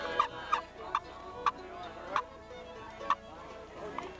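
A hand-held turkey call worked outdoors by a hunter to make hen sounds, giving about seven sharp, close yelps spaced unevenly over a quiet background.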